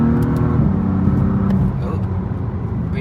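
A BMW M4 CS accelerates hard, its engine note loud and close, a steady rising roar that eases slightly toward the end, with no talking over it.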